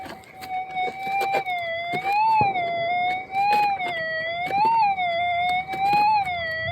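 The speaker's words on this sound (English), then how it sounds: "It's a nice high-low tone." A Garrett Axiom metal detector with an 11-inch monocoil gives a continuous electronic target tone that wavers between high and low pitch, loud and close, with no talking.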